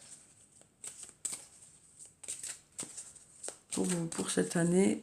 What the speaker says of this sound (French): je vais prendre une carte de l'archange Michael pour savoir quel est le message